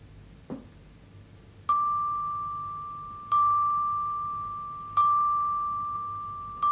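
Three clear bell strikes at an even pace, each a bright ringing tone that decays slowly before the next, preceded by a soft knock.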